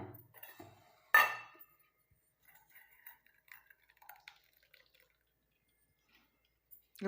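Quiet liquid dripping and trickling through a strainer as a ground paste is strained, with a brief louder clink near the start, then soft scattered drips fading toward the end.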